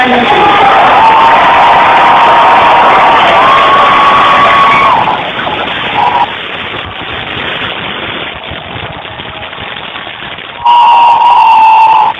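Audience at a Dallas Comic Con 2012 panel breaking into loud applause and cheering, a dense roar for several seconds that drops to quieter murmuring before surging again near the end.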